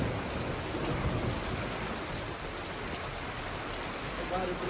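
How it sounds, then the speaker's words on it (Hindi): Heavy rain falls steadily in the Jim Corbett jungle, a loud unbroken wash of noise with a faint low rumble of thunder underneath. "बादल कड़क रहे हैं और बिजली चमक रही है।"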